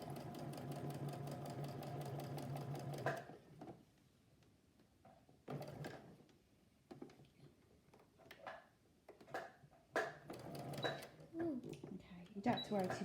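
A sewing machine runs steadily, stitching tote bag straps in place during a children's sewing project, then stops, leaving a few clicks and handling knocks before short bursts of stitching resume.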